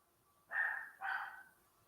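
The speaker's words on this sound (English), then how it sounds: "Must be some puppies outside." Two short yips from puppies outside, one after another, faint and distant, with quiet room tone around them.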